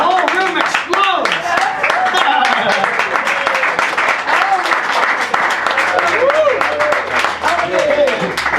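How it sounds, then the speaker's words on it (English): A packed auction room bursts into loud, dense applause after a lot sells for $2,200,000, with clapping mixed with cheers and excited voices, holding steady throughout. "just as the applause is dying down, as it just did"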